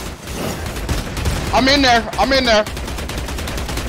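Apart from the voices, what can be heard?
pistol gunfire in Vampire: The Masquerade - Bloodhunt video game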